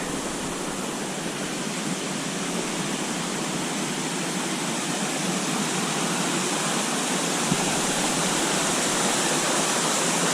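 A small waterfall on the Little River Trail pours steadily, its broad, even rush of water continuous and fairly close, with no voices over it.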